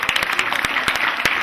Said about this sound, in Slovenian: Prosim, res en lep aplavz